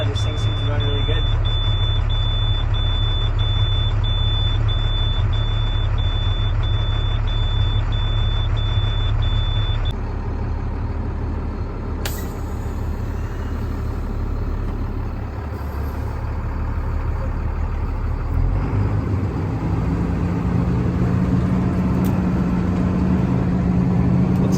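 A 2007 International 7400 6x6 truck engine runs at a steady, close idle, giving a continuous low rumble. A repeating electronic warning beep sounds over it during the first several seconds.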